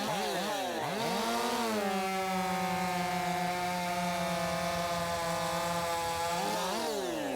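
Craftsman chainsaw cutting down through a log with knots: the engine revs up, then holds a steady, loud, high-pitched whine through the cut before rising again at the end.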